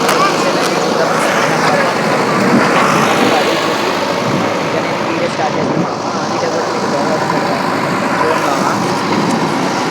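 Steady engine rumble of a new tractor runs continuously throughout, loud and close, idling outdoors with broad road-like noise and no clear voices.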